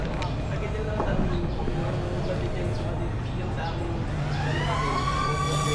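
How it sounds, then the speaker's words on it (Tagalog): A small DJI Neo drone is launched and flies nearby, giving a steady high-pitched whirring buzz that rises near the end. The buzz runs over constant background noise, and people talk throughout. "Kaya naman pakinggan nyo yung tunog ng DJI Neo ngayon kapag pinalipad natin."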